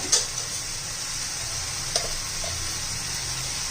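Spices go into hot oil for a yogurt egg curry, giving a steady low sizzle with a few faint clinks and stirring scrapes, fairly quiet and with no voices.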